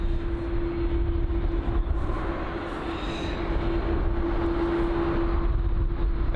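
Arriving airliner on approach to London Heathrow, a steady distant jet roar with a constant droning tone, holding even and moderately loud throughout.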